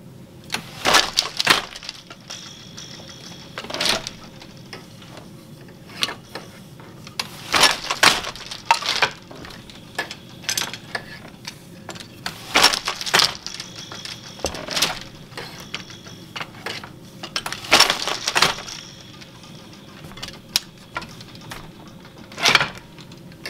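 A wooden treadle loom weaving summer-and-winter hot pads clacks and thumps in repeated clusters of sharp knocks, with quieter pauses between the beater and treadle strokes.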